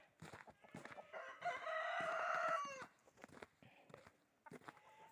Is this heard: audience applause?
no